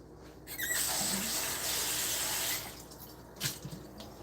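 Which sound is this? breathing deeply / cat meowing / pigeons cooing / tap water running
tap water running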